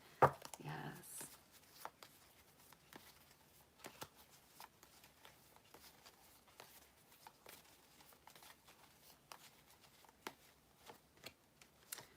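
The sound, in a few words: shuffling Spirit Animal Tarot cards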